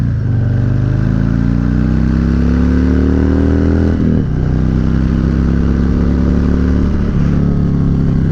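A 2019 Harley-Davidson Heritage motorcycle accelerating hard, its engine note climbing through two gear changes, loud and close with a deep rumbling exhaust and no talking.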